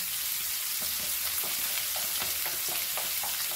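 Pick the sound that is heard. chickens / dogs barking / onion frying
onion frying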